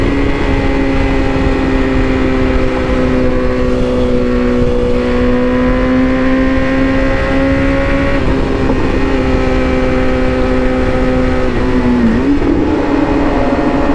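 A BMW S1000RR motorcycle ridden at night in the cold, engine note loud and close, holding a steady whine that rises and falls with throttle and gear changes, wind rushing throughout.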